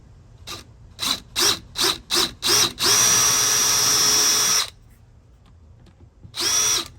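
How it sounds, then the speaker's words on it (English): A power drill revs in several short bursts while drilling holes to mount a Ring doorbell, then runs steadily for nearly two seconds before one last brief whir, close and loud. "let's go ahead and drill our other holes."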